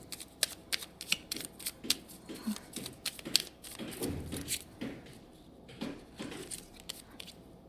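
Tarot cards being shuffled and drawn during a Hindi reading, heard as a quiet run of crisp papery flicks and riffles in irregular bursts close by, with soft low background noise.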